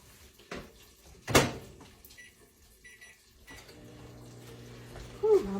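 A microwave door clunks shut amid light dish clatter while heating Cheez Whiz for crockpot Philly steak hoagies, followed by the low running hum of the oven and a short beep near the end.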